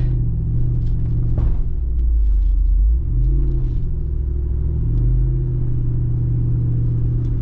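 Jeep Wrangler Rubicon 392 V8 engine rumbling at low revs as it crawls up an off-road obstacle, with a deep steady idle and small throttle swells and no talk.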